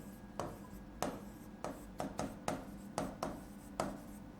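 Pen writing on paper during a probability lesson, a series of short scratchy strokes at irregular intervals, close and fairly quiet, with no talking.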